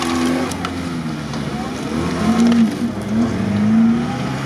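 A Lada Niva off-road car driving on a club off-road course, its engine droning and rising in pitch as it revs, moderately loud with a continuous rumble and brief surges.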